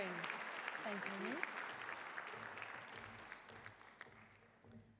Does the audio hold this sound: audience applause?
yes